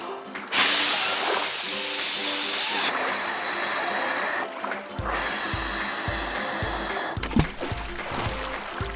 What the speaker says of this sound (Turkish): Onun rüzgara ihtiyacı var. Hemen üflüyorum.